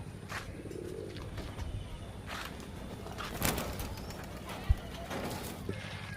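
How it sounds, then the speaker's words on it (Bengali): One-sided Madras pigeons at a loft give low, soft cooing in a busy room, with people talking nearby and occasional light thumps and wing flutters. "দেখুন এক সাইড ম্যাড্রাস পায়রা"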